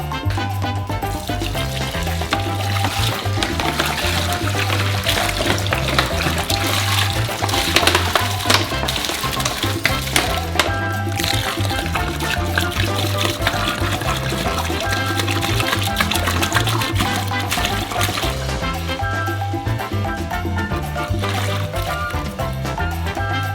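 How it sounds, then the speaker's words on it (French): About 35 litres of water poured into a large bowl while mixing a giant homemade Nutella Go, a loud continuous rushing splash that stays steady throughout, close up, with no speech. "Pour faciliter le mélange, on verse d'abord la moitié de l'eau."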